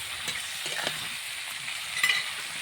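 Bitter gourd pieces with potato and pointed gourd sautéing in a pan, a steady close sizzle with light stirring scrapes and a sharper spatter near the end.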